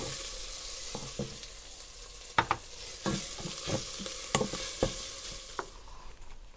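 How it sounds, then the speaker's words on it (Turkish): Vegetables with tomato paste sizzle steadily in a hot pan while a utensil scrapes and clacks against it in irregular stirring strokes, close up and without talk. "Bunları da iyice kavuruyorum."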